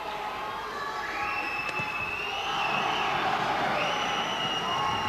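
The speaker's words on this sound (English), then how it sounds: "Davison fans there gave him a little bit of a cheer for that long right hand" Boxing crowd at a bout between Craig Dermody and Russ Davison gives a brief cheer for a long right hand, a moderate swell of voices rising in the middle of the clip over a steady arena murmur.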